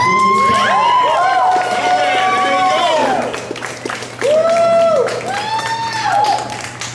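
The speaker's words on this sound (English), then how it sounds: "Give a round of applause to Conrad." A comedy club audience cheers, whoops and claps for a comedian taking the stage, with loud shouts and whistles over the clapping and a brief dip before the noise swells again.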